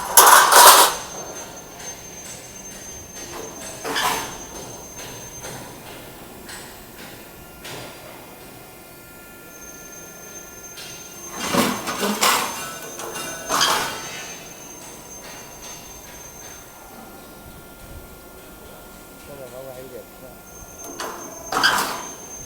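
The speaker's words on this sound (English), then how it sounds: "The machine is under running and testing." Roll forming machine for garage door support angles running under test, punching holes after forming: steady mechanical hum broken by several loud sharp punching clanks at irregular intervals, with someone speaking at times.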